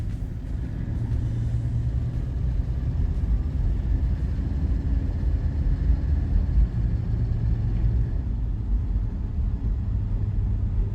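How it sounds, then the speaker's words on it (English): A 1965 Lincoln Continental drives steadily with a low engine rumble and road noise, a continuous hum from the cabin with no talking. "Now we're heading out on a test drive with the 65 Lincoln Continental."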